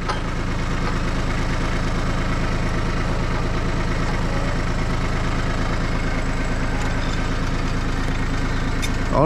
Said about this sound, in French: On fait gaffe que le tracteur se barre pas.